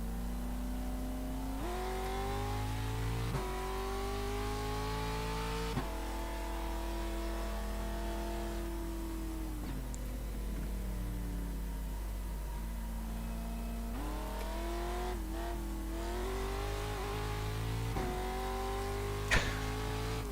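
Off-road truck engines in the iRacing sim hum and rise in pitch through repeated gear runs. There are several accelerating pulls with shifts in between, steady and moderately loud, and nobody talks.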